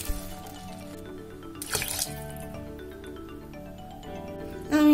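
Water is poured into a pot of basmati rice for corn pulao, giving a steady trickling, splashing pour with a brief louder splash midway, close and clear.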